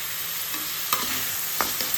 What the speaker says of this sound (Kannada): ಇದು ಟೊಮೆಟೊಸ್ ಎಲ್ಲ ಫುಲ್ಲು ಮ್ಯಾಶಿ ಆಗೋವರೆಗೂ ಚೆನ್ನಾಗಿ ಫ್ರೈ ಮಾಡ್ಕೋಣ.